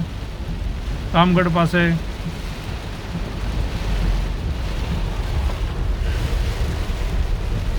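Heavy rain pours steadily near water filter works by a railway crossing around Ramgadh, between Ranavav and Bileshwar near Porbandar, a loud continuous hiss with wind throughout while someone speaks briefly near the start.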